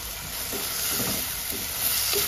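Cut pieces of raw mango being stirred into a simmering Kerala-style fish curry, a soft scraping stir repeating every half second or so over a steady sizzle and bubbling hiss, close by, with no talk.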